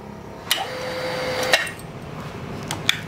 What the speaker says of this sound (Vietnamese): Cái tiếng cạch cạch mà các bạn nghe thấy là cái tiếng phanh nó đóng lại.